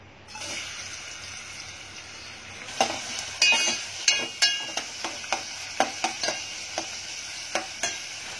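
Onion frying in plenty of oil in a home kitchen, a soft hiss that starts quiet and then gains regular stirring knocks and scrapes roughly twice a second, close-up with no talking.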